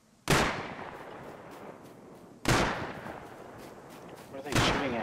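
Gunshots in the survival game Rust: three loud, sharp reports spaced about two seconds apart, each ringing out with a long echoing tail, fairly near.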